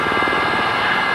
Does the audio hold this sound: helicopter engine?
yes